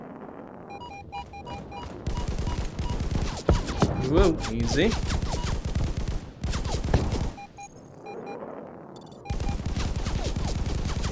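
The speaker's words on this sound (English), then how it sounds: "You get the soothing sounds of gunfire from all angles is what you get." Gunfire from all angles in the video game Afterburn: repeated bursts of rapid shots and fusillades, loud and close, with brief pauses and a player's voice speaking over it.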